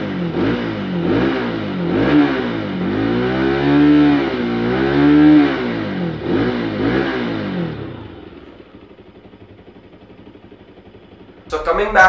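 A Bajaj Pulsar RS200 motorcycle engine revs up and down loudly and close by for about eight seconds, then settles into a low idle rumble, with a sharp burst at the very end.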